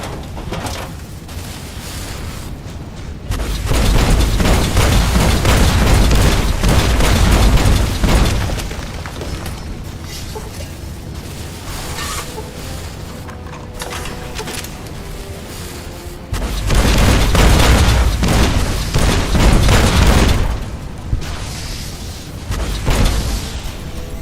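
Red Glare rocket launcher fired in Fallout New Vegas' Lonesome Road, heard as loud sustained booming blasts in two heavy bursts with rumbling explosions between, no talk over it.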